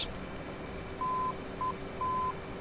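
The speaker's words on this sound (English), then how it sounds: "we can actually hear the Morse code" Morse code station identifier tone from an ADF navigation beacon in the DCS F/A-18C flight simulator: three clean, steady beeps, one long, one short, one long, faint over a low radio hiss, with no talking.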